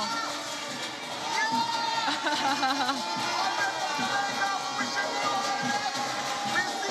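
A crowd at the CARIFTA Aquatics Championships evening swimming session gives off a steady wash of chatter and cheering, lifting slightly after the first second and holding at a fairly even level to the end.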